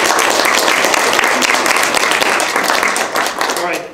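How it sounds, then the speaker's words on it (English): An audience claps for presenters at an educators' share session, with dense, steady applause mixed with voices throughout the short stretch. "A big round of applause to all of our presenters."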